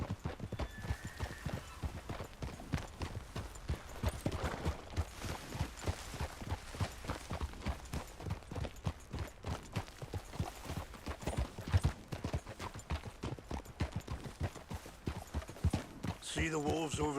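A horse is ridden at a steady walk in the video game Red Dead Redemption 2. Close, rhythmic clip-clop hoofbeats continue throughout, with occasional voices talking over them.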